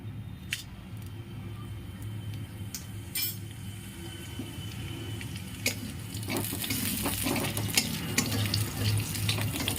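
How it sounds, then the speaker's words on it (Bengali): Oil sizzles and crackles steadily as cumin and a dried chili fry, with scattered sharp clicks and scrapes of a utensil that grow busier toward the end. "জিরেটা ভাজা হয়ে গেছে লঙ্কাটাও ভাজা হয়ে গেছে"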